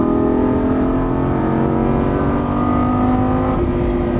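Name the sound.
Lamborghini Gallardo LP550-2 engine accelerating and upshifting on track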